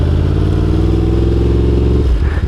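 A Yamaha R1 motorcycle powers through an S-turn, its engine a loud, steady drone close by that drops off with a short clattering shift near the end.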